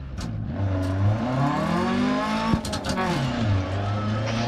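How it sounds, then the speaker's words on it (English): Rally car engine in the DiRT Rally video game, revving up and then bogging down as the pitch drops and strains, loud and close with a sharp knock midway and a person talking over it. "And just feel that engine bog down."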